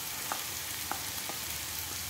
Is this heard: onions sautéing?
yes